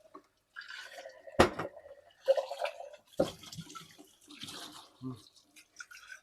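Tomatoes washed for canning under running water: splashes, drips and knocks of fruit against a basin, close and uneven, with a voice speaking briefly at times.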